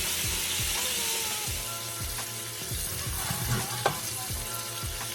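Pork chops frying in oil in a pan, a dense steady crackling sizzle up close with rhythmic low thumps and occasional utensil clicks.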